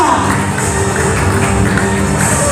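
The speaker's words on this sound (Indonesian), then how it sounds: "Tepuk tangan Bapak Ibu." A seminar crowd gives loud, dense, sustained applause and cheering that fills the whole stretch with no break.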